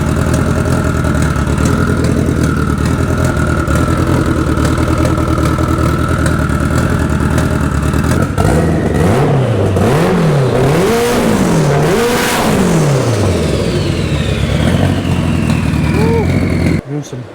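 A 900-horsepower all-wheel-drive Honda Civic engine runs loud and steady at idle, then rises and falls through several rhythmic revs before settling; people talk briefly near the end.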